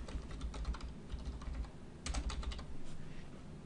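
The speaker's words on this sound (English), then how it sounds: "type out the name of the event" Steady keyboard typing in two bursts of rapid clicks with a brief pause between, fairly quiet and close, entering an event name in a project calendar, with no voices.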